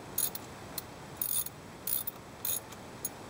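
A bolt is ratcheted in on a Jeep water pump, producing quick metallic clicking bursts of a ratchet in about five short groups, close up over a quiet background, with no talking.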